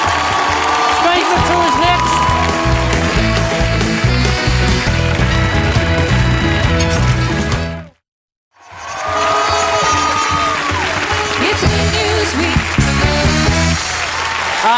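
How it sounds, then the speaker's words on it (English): A TV comedy panel show's studio audience applauds loudly over music and voices, with cheering mixed in. The sound cuts to a brief silence midway and then resumes just as full. "Give him a round of applause."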